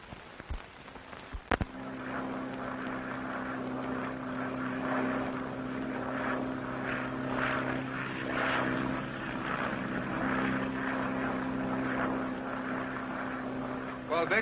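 A propeller airplane engine drones steadily and close, a continuous loud hum with a strong tonal buzz, preceded by a brief sharp knock before the engine noise settles in.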